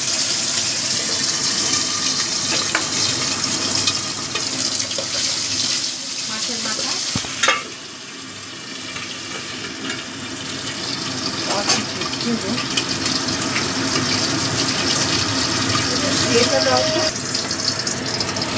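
Fish heads frying in hot oil in a home kitchen, a steady sizzle with occasional stirring clatter and spatters running throughout, while a person speaks over it.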